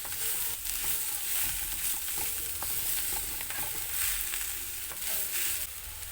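Figs frying in a hot pan give a steady, close sizzle with light stirring clicks and scrapes throughout, no voices.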